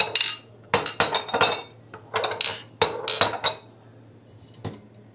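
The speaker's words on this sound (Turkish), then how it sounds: "Şimdi şöyle bardakları kenara alalım" Drinking glasses clouded with milky residue clink and chime together as they are moved aside, several bright bursts of glassy clatter in quick clusters, close by and fairly loud, with no talking.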